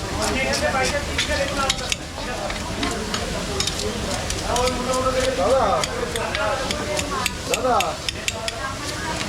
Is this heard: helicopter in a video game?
no